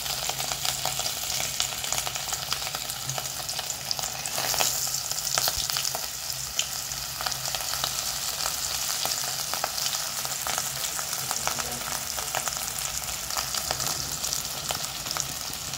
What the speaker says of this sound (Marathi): आता हे याला असं ह्याच्यामध्ये डिप करून वरून असं व्यवस्थित लावून घेते आणि तेलामध्ये फ्राय करते.